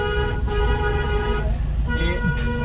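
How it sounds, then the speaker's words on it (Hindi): A loud, sustained car horn blares close by over the rumble of traffic on a rough village road, with no pauses through the whole stretch. "लॉन्ग हॉर्न पुश करो,"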